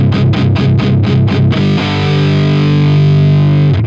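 Heavily distorted electric guitar through a Neural DSP Archetype Nolly amp plugin with a rattly, fizzy tone: a burst of rapid palm-muted chugs, then a loud sustained ringing chord that fades out, with no talking.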